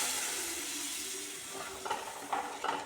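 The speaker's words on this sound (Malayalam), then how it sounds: "നേരത്തെ തയ്യാറാക്കി വെച്ചിരിക്കുന്ന പുളിവെള്ളം ഒഴിച്ചു കൊടുക്കാം" Tamarind water poured into a hot pan while making puli inji, giving a steady soft sizzle and hiss, then a few light scraping clinks of stirring toward the end, close and with no talking.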